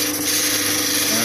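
An opal cutting and polishing machine whirs steadily as a stone is worked against the polishing wheel, a continuous near grinding hiss with no pauses.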